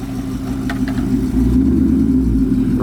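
Car engine idling close and loud, then its low rumble deepens and swells as the car rolls forward, with a brief faint voice early on.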